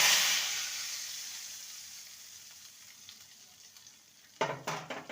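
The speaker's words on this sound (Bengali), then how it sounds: "ফোড়নটা ভাজা হয়ে গেছে এবার এই ফোড়নটা এর মধ্যে দিয়ে দেব" Hot fried tempering spices with asafoetida are poured into a potato curry, starting with a loud hiss that fades into a soft simmering crackle, followed by a few clattering stirs near the end.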